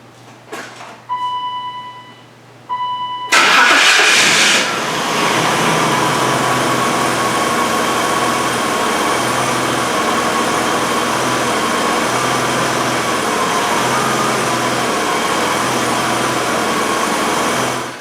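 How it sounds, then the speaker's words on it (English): A BMW 735iL E32 sedan, just fitted with new fuel hoses, cranks briefly and catches, then settles into a steady, fairly loud idle that runs on unchanged, close to the microphone. "So now I just need to start the car and try it out."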